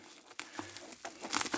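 Package wrapping being cut open and crinkled during an unboxing, a run of close, dry rustles and crackles with sharp tearing bursts, growing busier toward the end.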